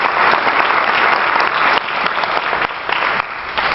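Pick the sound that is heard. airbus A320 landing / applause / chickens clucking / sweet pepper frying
applause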